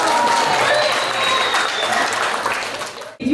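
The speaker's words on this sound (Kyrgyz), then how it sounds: "мыкты адамдарга бир кол чаап куштап койбойлу" Sustained applause from an audience at a birthday celebration, dense and loud clapping filling the clip before stopping abruptly near the end.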